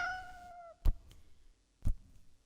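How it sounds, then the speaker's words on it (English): Two short, separate cat meows from a cartoon cat in the video game Lost Words, each a brief bright call with a pause between, following a fading musical chime; no talking. "Cats."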